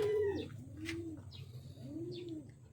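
Male pigeons give two soft, rolling coos in a loft, each a low swelling call, with faint chirps from other birds behind them.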